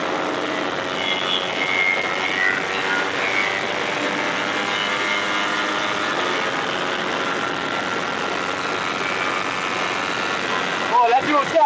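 Kawasaki Ninja 250 motorcycle with Ohlins suspension, ridden at speed while chasing an R15, its engine droning loud and steady throughout with wind rush, and a brief burst of voice near the end.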